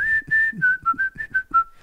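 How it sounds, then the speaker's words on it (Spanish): Someone whistles a short melodic phrase of several notes, close and clear, with faint soft sounds beneath. "Pues no se puede subtitular el silbido"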